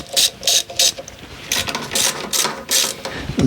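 Ratchet wrench loosening a 10 mm fastener on a Ford Mustang engine being diagnosed for a rough idle: close, loud bursts of rapid clicking, several short runs separated by brief pauses.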